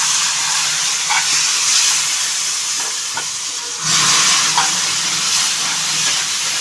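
Loud, steady hiss of water boiling and steaming in a pan for kesari, continuous throughout with a slight surge partway.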